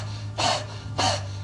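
Rapid panting breathing exercise done through the mouth, with two strong breathy bursts close to the microphone separated by a short pause, heard alone without speech.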